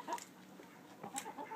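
A chicken gives a few quick, faint clucks at close range, with short sharp calls at the start and a burst of clucking near the end, with no talk over it.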